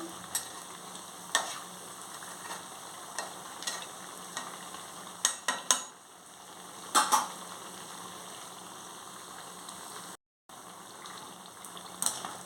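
Rice-flour punugulu fritters frying in hot oil, a steady sizzle with occasional louder stirring clatters and pops, close by and without speech.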